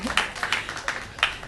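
Audience at a storytelling show clapping, scattered individual claps in an irregular rhythm, fairly close but thin, as if only a few people are applauding.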